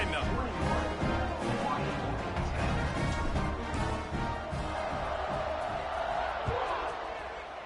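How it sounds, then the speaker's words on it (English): A stadium crowd in the College Football 26 video game roars steadily around a kickoff, a broad, continuous wash of cheering that fades slightly near the end, with a commentator talking over it. "this crowd now ready to get behind them"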